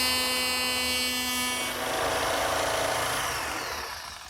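A router bit cuts a groove end to end along a wooden back rail for a planter's desk. A high motor whine turns into a loud, rough cutting roar as the wood is pushed through, then fades.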